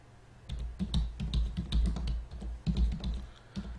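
Brisk typing on a computer keyboard, entering a name into Microsoft OneNote, with a fast run of close, distinct key clicks, a short pause, then a few more presses.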